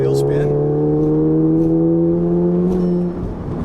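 A Volkswagen Golf Mk7 GTI with an upgraded IS38 turbo accelerating hard up a freeway entrance ramp from wheelspin, a loud, close, steadily rising engine drone that eases off near the end, with a voice speaking over it.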